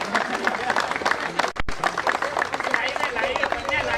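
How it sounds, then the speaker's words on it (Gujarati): Audience applause at a prize distribution ceremony for a community cricket tournament in Vadali, dense steady clapping from a crowd, briefly broken by a sharp low thump, with murmured voices mixed in. "જોરદાર તાળીઓનો અવાજ આવવો જોઈએ"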